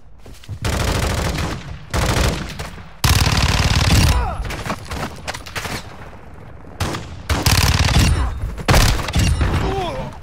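Heavy automatic gunfire rattles in long, loud bursts in a Call of Duty match, with sharp booming shots and brief gaps between volleys, while radio-style voice lines speak over the action.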